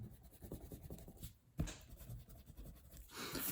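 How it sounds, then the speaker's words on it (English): A rubber eraser scrubbing pencil marks off drawing paper, a soft close scratchy rubbing in quick back-and-forth strokes with one brief louder bump partway through. "I'll use my eraser to erase out these X's"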